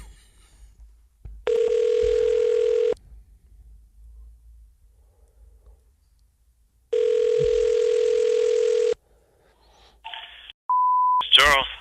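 Telephone line tones: two long steady electronic beeps a few seconds apart, then short higher bleeps and a warbling tone near the end, all clear and alone over a quiet line.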